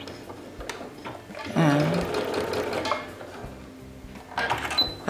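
Sewing machine back stitching the end of a seam in beginner garment sewing, a steady close mechanical whir with a brief louder burst, a single spoken word heard over it.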